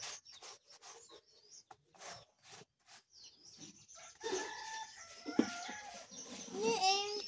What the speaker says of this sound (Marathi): सकाळी सकाळी सगळे कोंबडे ओरडत आहेत.